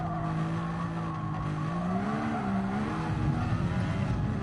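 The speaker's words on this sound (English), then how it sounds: "when they like wheel spin in second gear and you just hear them spitting" A single-seater race car in a sim racing game spins its wheels in second gear, a steady loud engine drone with wavering harmonics and a gritty, spitting tone throughout, no voices.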